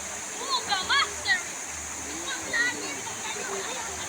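Daranak Falls pouring in a steady, broad rush of water, heard outdoors with birds chirping and people talking nearby over the constant roar.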